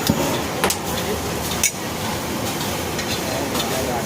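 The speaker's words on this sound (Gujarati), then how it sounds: "તેલ નાખીને હવે કડક કરી નાખે." Pav bread toasting in oil beside bhaji on a street-food griddle, a steady loud sizzle with occasional sharp metal spatula scrapes and clinks, busy background noise underneath.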